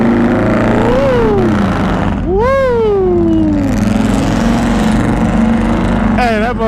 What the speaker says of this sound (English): you gotta rev the engine up a little bit, let them know you out here